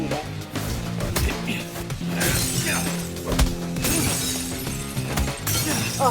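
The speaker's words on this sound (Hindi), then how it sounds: "सारे शीशे तोड़ने गया।" Glass windows smashed during a fight scene in a Tamil action film, with repeated loud shattering crashes and debris bursts over a dense, busy soundtrack, no voices on top.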